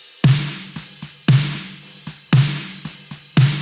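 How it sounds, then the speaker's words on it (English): Three layered snare drum samples plus a bottom snare mic play together in a steady pattern, with four loud cracking backbeats and softer ghost hits in between, each decaying with some room tail. "So all 3 of those samples plus the bottom snare sound like this."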